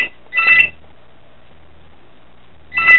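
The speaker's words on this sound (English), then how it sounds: "probably an automatic call from my phone company" A phone sounds two short bursts of electronic tones from an automatic call, separated by a long quiet gap, close and clear with no talking.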